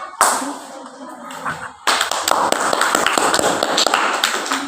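A crowd applauds a student group after its presentation during a school project day, with a short burst of clapping followed by sustained, dense clapping from the room.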